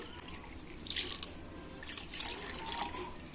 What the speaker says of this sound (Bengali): আমি আট বাটি জল দিয়ে নিয়েছি